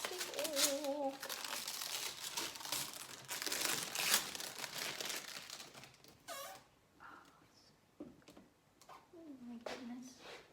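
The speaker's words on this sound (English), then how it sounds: "Taking the plastic off." Plastic wrap peeled off a Cricut Explore Air 2 cutting machine while unboxing, crinkling and crackling in a near, steady rustle, with a person talking over much of it.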